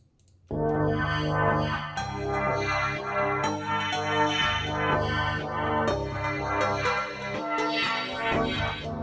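Bright synth plucks from a Nexus preset play a layered melody over sustained pads and low bass, a dense, continuous electronic texture.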